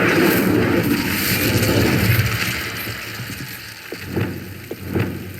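In Hogwarts Legacy, Confringo explosive spell blasts go off as a rumbling boom with a crackling tail, then fade. Two sharper pops follow later, closer together and quieter, with no talking heard.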